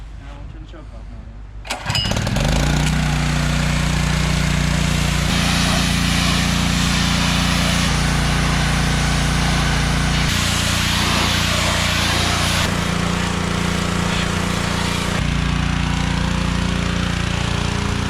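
A Honda outboard motor on a boat coughs into life after a quiet start, then runs loud and close with a steady drone that shifts pitch as it revs high, while people talk over it.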